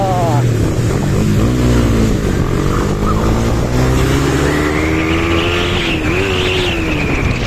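A motorbike engine revs loudly and continuously, its pitch climbing and falling as the throttle changes, up close with a steady rumble.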